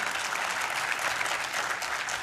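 Audience applause at a literary conference, a dense, steady wash of many hands clapping together that fills the whole stretch without a break.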